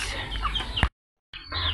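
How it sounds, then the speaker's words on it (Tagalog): A flock of chickens clucks up close while crowding and following for food, a busy overlapping chatter cut by a brief moment of silence before resuming. "Ang ating mga manok andito, nakasunod lahat."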